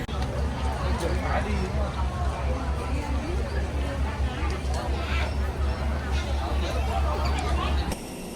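A crowd of travellers hurrying to a gate at Ho Chi Minh City's airport: a continuous hubbub of overlapping chatter and shuffling footsteps over a low rumble, loud and close, ending abruptly.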